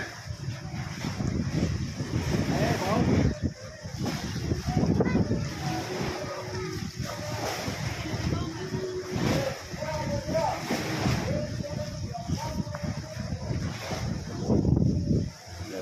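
Gusty wind buffets the microphone outdoors near water while fishing, rumbling steadily throughout while people talk over it.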